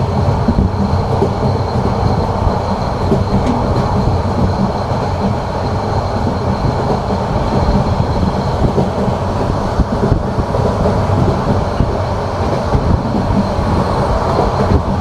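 The Cox's Bazar Express rolls along the rails between Chittagong and Dhaka, a steady, loud rumble with faint rhythmic clatter of wheels heard from inside the carriage, unbroken throughout.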